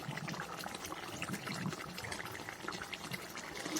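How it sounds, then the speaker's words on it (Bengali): Curry gravy poured into a pan of Mirga fish curry, a faint, steady watery trickle and soft bubbling from the pan, close and quiet with no talk over it. "আবার একটু ঝোল দিয়ে দিলাম"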